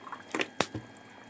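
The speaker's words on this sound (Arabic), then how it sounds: "هننزل عليها بنص كوباية من الخل" Half a cup of vinegar splashes into a koshari tomato sauce in a pot, a brief close pour of a few quick liquid slaps and drips, then quiet.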